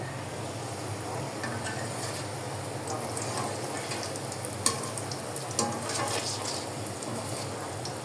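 Food sizzles in a hot pan, a steady crackling fry with a couple of sharp utensil clinks partway through, close and unbroken, no talking.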